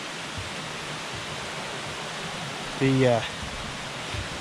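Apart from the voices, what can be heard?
water flowing over sandstone rocks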